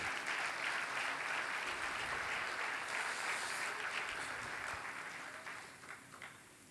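A church congregation applauding during a sermon, a broad wash of many hands clapping at a distance that holds steady, then thins and fades out toward the end.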